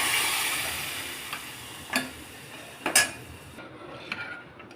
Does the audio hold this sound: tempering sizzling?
yes